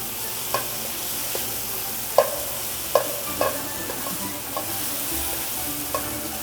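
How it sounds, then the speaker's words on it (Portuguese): Pasta lightly frying in butter and olive oil in a pan, a steady soft sizzle with several sharp clinks of a utensil stirring against the pan at irregular intervals, close and fairly quiet with no talking. "como se fosse uma leve fritada na massa, para já pegar um pouco de sabor nessa manteiga com azeite aqui"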